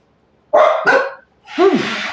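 Two or three sharp dog barks burst out close and loud, the last one stretched into a wavering yelp, with a short silent gap between them.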